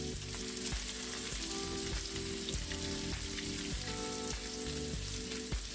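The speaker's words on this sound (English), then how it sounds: "saute the mashed garlic in the butter" Mashed garlic sizzles steadily in melted butter in a pan, a continuous close frying crackle with faint rhythmic stirring or scraping and no voices.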